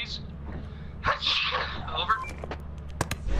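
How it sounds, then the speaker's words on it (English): A person sneezes once, loudly and close, amid low background hum in the Lethal Company game, with brief voice-like sounds and clicks following. "I gotta sneeze."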